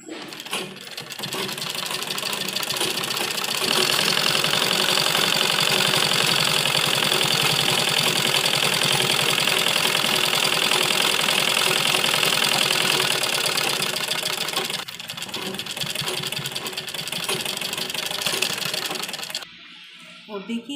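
A sewing machine runs continuously, stitching around a round school uniform collar with placket; its fast mechanical whir and rattle stay loud and close for most of the time before slowing and stopping near the end.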